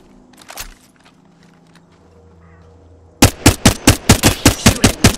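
Rapid automatic gunfire from Apex Legends rattles out in a close, loud burst of about a dozen evenly spaced shots, preceded by a few faint clicks and a quiet lull.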